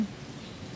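Steady, faint rain patters on a surface during a rainy-season trip, a soft continuous wash of drops with no voices.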